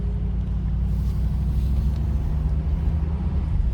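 A steady, loud low rumble of a 1989 Cadillac Allante engine and road noise from inside the moving car after injector replacement, continuous throughout.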